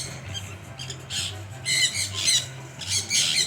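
Birds squawking at a mini zoo beside a coffee shop, a run of harsh calls that grows louder toward the end over a low steady background hum.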